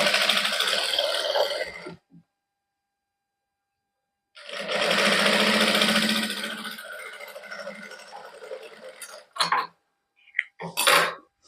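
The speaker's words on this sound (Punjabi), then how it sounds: "ਤੇ ਇੱਥੇ ਨਾ ਆਪਾਂ ਕੱਚੀ ਸਲਾਈ ਲਾ ਲੈਣੇ ਇੱਕ ਵਾਰੀ" A sewing machine runs basting stitches on a plain suit, two sustained bursts of motor whir separated by a silent pause, loud and close, followed by a few short clunks and handling rattles.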